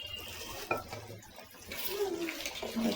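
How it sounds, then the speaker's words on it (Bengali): Water poured into a cooking pot of beef curry with taro and potatoes, a soft sizzling splash that builds and continues after a brief clink, fairly close and alone. "এই তো এখন পানি দিয়ে দিব"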